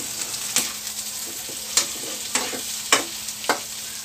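Chicken liver and gizzard adobo with okra sizzles in a pan as a utensil stirs it, making sharp scraping clicks at irregular intervals over a steady soft frying hiss.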